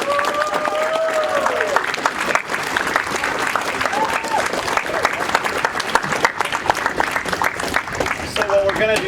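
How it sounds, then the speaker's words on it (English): A convention panel audience at G-Fest applauds loudly and steadily for several seconds, with a few voices and cheers rising over the clapping. "Let's give a round of applause to them."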